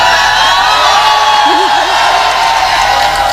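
An audience member shouts out loudly at an all-India mushaira poetry recital, a brief wavering yell rising over steady crowd murmur and hall noise.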